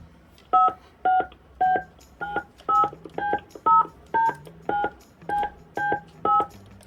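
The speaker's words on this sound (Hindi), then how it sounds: "आप पेमेंट अपने मोबाइल से 16 अंक का क्रेडिट कार्ड नंबर डाल दीजिए" Keypad tones sound from a mobile phone as a 16-digit credit card number is entered, a steady series of short, distinct beeps at slightly varying pitches with brief gaps between presses.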